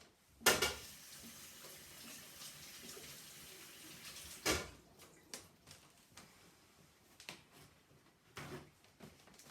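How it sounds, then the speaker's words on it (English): Hands rinsed under a running kitchen tap while making a chiffon cake, a steady soft splash of water with a couple of louder bursts and light clatter in between. "I'm just gonna give my hands a quick rinse."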